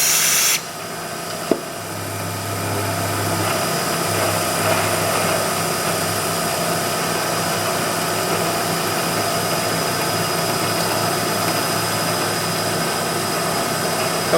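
Machine engine running steadily at 1600 RPM while being hand fed, a loud continuous roar with a constant low hum and one brief knock near the start.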